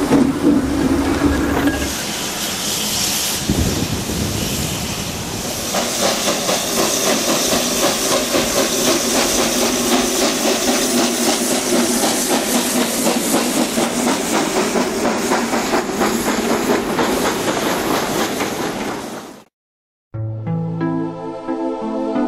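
A steam locomotive at a sugar mill in Cuba runs close by with loud hissing steam and a rhythmic chuffing engine that continues until a sudden cutoff.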